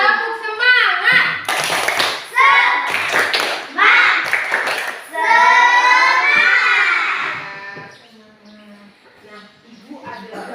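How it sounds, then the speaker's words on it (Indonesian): Schoolchildren in a classroom perform a rhythmic clapping cheer, sharp grouped claps alternating with loud chanted voices in unison, ending with a trailing call and quieter talk. "Tepuk semangat."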